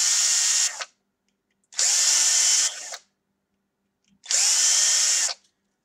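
A 3 mm drill bit bores holes through a 3D-printed part for a Bruder Mercedes Arocs halfpipe tipper model, three close, loud drilling bursts of about a second each separated by short silences.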